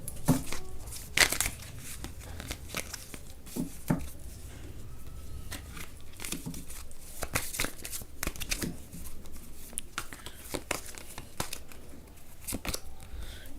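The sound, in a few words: tarot cards being shuffled and drawn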